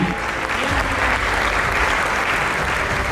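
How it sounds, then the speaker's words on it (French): An audience applauds university delegations at a national inter-university competition semi-final, a loud, dense, steady clapping that fills the whole span without a break. "Sous vos applaudissements, s'il vous plaît"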